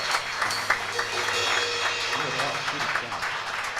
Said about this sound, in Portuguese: Ó igreja, aplauda a Jesus.